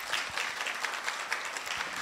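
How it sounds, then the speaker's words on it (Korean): An audience at a talk on labour policy breaks into applause, a steady, even patter of many hands clapping at moderate distance, filling the whole moment without speech. "여러분 박수 한번 해주세요."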